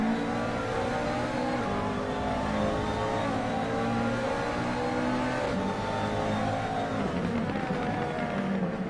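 GT3 race cars at Mugello in Assetto Corsa, a video game, a continuous loud engine roar with shifting revs as cars accelerate and brake through corners, with no talking.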